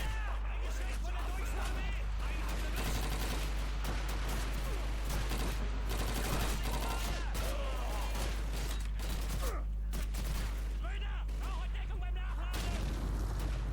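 Rapid bursts of Call of Duty 2 gunfire crackle almost continuously, mixed with explosions and energetic talking throughout.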